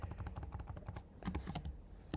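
Computer keyboard typing while coding in C++: a rapid run of close, crisp key clicks that pauses briefly midway and then resumes with a few more distinct keystrokes.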